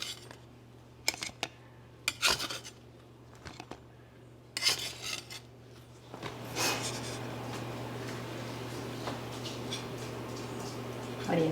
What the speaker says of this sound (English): the best way to remove it is just with a little spatula. You want to remove them from the pizza stone